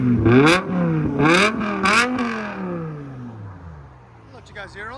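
A BMW M5 with a 5.0L V10 and straight pipes revs hard three times in quick succession, a loud rising howl on each blip before falling back to a rumbling idle, with voices talking over it.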